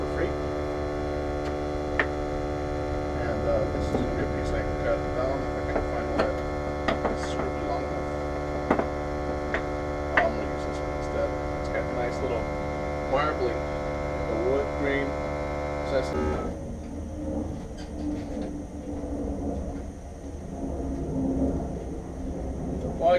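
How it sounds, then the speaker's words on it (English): An air compressor and a makeshift shop-vacuum dust collection system run in a woodworking shop during a pallet-wood bathroom vanity build, making a constant droning machine hum. The tone shifts audibly about two-thirds of the way through. "The three noises you hear in the background are the air compressor, the makeshift dust collection system that I have"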